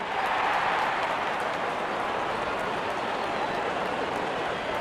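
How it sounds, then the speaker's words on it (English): Crowd in the Real Cricket 26 video game cheering as the opening batsmen walk out, a steady dense roar of applause and cheering throughout. "Out come the openers, cheered by a good crowd in."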